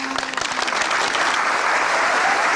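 Audience applause at a Thai school singing contest, a dense, steady clapping that swells right after a sung phrase and holds loud throughout.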